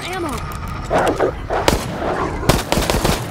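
A dog attacks in the online game Resident Evil Resistance, its barks and snarls mixed with gunfire and game effects while a player talks and laughs over the action.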